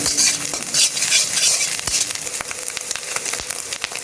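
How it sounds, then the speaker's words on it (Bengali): A pan fries loudly with a little salt added for a home pasta dish, a dense, close sizzle broken by repeated stirring scrapes and light clinks throughout. "সামান্য একটু লবণ দিয়ে দিব। আমি এখন একটু ভেজে নিব।"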